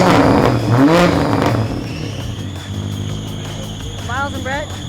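Race car engine revving loudly with the VCT gear plugged in after a suspected compression loss, a strong rising rev early on that drops to a steady idling drone, with people talking over it.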